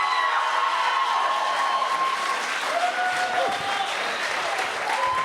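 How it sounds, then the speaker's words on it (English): A crowd at a poetry event applauds steadily, a dense wash of clapping that holds throughout, with faint voices under it. "Clap it up for Duke the Root, everybody."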